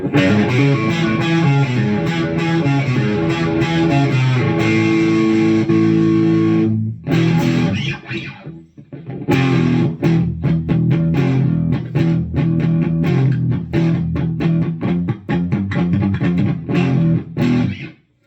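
A home-built Telecaster kit guitar plays through an Egnater Rebel 20 amp with reverb off, loud distorted chords and riffs ringing continuously, with a brief gap near the middle and choppy strummed passages afterward.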